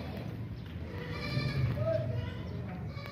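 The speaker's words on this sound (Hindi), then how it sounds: "ये गब्बन बकरी चेक करें भी, बहुत ही ज़बरदस्त ऊंची लंबी गब्बन बकरी है" A tall, heavily pregnant goat bleats once in a short, mid-loud call on a farm, set against steady low background noise.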